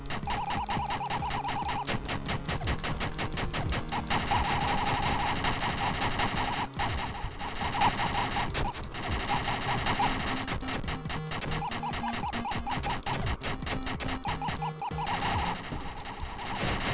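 Rapid, continuous video game gunfire rattles on without a break, dense and loud, layered with a repeating mechanical electronic pattern from the game throughout.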